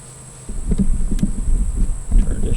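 A small honeybee swarm at a weak hive with a red queen, few bees, little stores and many beetles, giving a steady close insect buzz that starts after a quiet half second and continues alone.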